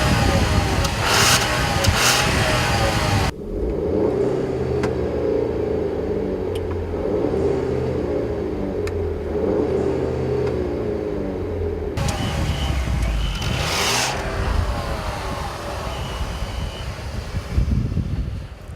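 A 2014 Volkswagen CC R-Line accelerates hard on a racetrack, a steady engine drone and road rumble with wind noise in between, bracketed by louder, rougher passages of rushing air and tire roar.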